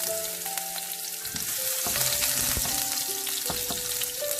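Garlic frying in hot oil with popping mustard seeds, for a Kerala-style tomato chutney: a steady, close sizzle runs throughout with scattered crackles and pops, and no talking.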